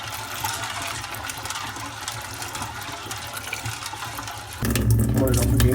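Water runs and splashes over soybeans being rinsed for soy milk in a sink, a steady close rush that shifts to a heavier, fuller pour near the end, with a voice talking over it.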